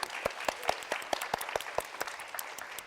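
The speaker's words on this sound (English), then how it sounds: "can we all just give ourselves a round of applause for spending an hour on mental health?" Applause from a small audience at the close of an hour-long online mental health session, a thin patter of separate claps with a few sharp individual hits standing out, fairly close and steady throughout.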